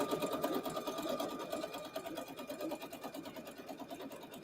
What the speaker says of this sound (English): as you sew the blocks along